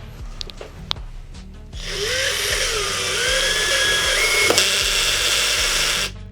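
A Procraft PA212 cordless screwdriver, about five years old, spins up after a few light handling clicks and whirs steadily for about four seconds while driving a screw into wood, then stops.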